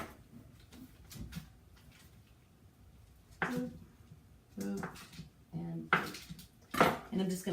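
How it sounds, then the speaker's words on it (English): A knife slices a stick of butter into four pieces on a cutting surface, giving a few soft knocks and clicks of blade against board in short bursts while a person talks over them. "I'm just going to cut this into 4 pieces, 4 equal pieces."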